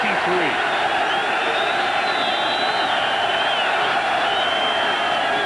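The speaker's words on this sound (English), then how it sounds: "Crowd comes to life. Many of them coming to their feet." A football stadium crowd at a 1999 NC State versus South Carolina game roars on third down, a dense, steady wash of cheering and whistles throughout, heard under a commentator's voice.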